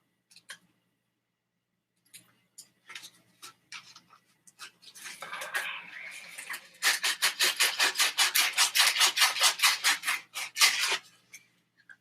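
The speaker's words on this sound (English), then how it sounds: "after recutting that handle again, I want to sand it real quick" A recut wooden wand handle is sanded by hand: scattered light scrapes at first, then a run of steady, rapid back-and-forth rasping strokes, close and alone with no talk.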